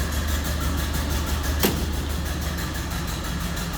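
A 1929 Ford Model A Roadster engine idles steadily in neutral, a low, even mechanical rumble close by with one brief sharp click partway through and no voices.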